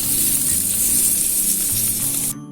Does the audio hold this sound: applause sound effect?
no